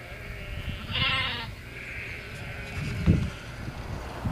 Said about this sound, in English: All the sheep are going over.